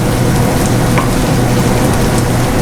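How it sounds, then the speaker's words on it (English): Sausage pieces frying in a pan with white wine, a loud close sizzle and bubbling hiss, continuous and even, with faint scraping as the contents are stirred. "let me give it another one more good stir"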